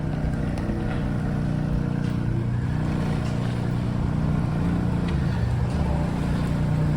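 A 2023 Ford Focus ST Estate engine runs steadily at idle, a deep, meaty rumble that stays constant and fairly loud throughout with no revving.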